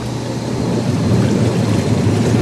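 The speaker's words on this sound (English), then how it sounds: "Button 5 is for your air blower." A spa's air blower runs steadily, a loud continuous roaring rush of air and bubbling water with no break.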